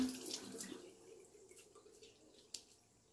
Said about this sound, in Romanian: O să încep prin a-mi uda fața cu puțină apă.